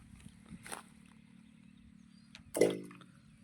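Water deep in a farmland borewell, heard as faint small knocks followed by one clear splash-like hit with a short ringing decay. No talking.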